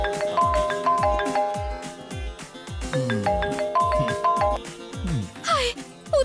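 A phone ringtone plays during a call in a dubbed Tamil film, its short melodic chime phrase repeating twice, fairly loud over a low rhythmic background.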